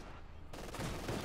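Machine-gun and autocannon fire in a Company of Heroes 2 battle on the Eastern Front, a short loud burst of overlapping gunfire cracks and blasts that swells after a quieter moment.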